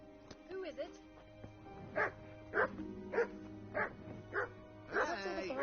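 In the medieval game Kingdom Come: Deliverance, a dog barks in a run of about seven evenly spaced bursts, moderately near, after a brief vocal sound at the start, with a low background drone underneath.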